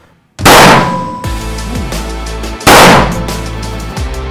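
Two loud pistol shots on a shooting range, each a sharp close blast with a ringing metallic tail, about two seconds apart.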